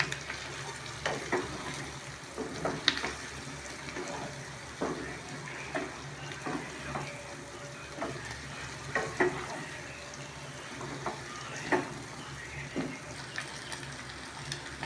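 Village-style chicken fry sizzling in a pan after a spoonful of garam masala goes in, a constant soft hiss broken by repeated scrapes and knocks of a ladle stirring the pieces.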